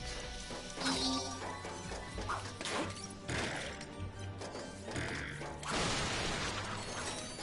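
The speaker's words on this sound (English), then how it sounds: "Ah, crates. Breaking them is always so satisfying." Wooden crates smash apart in Ratchet and Clank (2016), a busy run of cracks, crunches and mechanical clatters over about seven seconds, with game music underneath and no talk.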